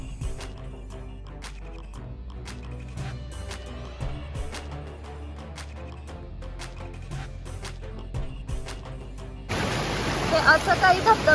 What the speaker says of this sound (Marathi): पण तरीही पाण्याचा प्रवाह आणि वेग भरपूर होता